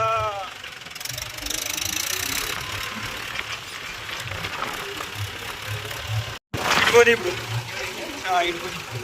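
Tractor engine chugging steadily while gears are changed during ploughing of a rice nursery field, with a brief cutout and clunk partway through, under faint voices.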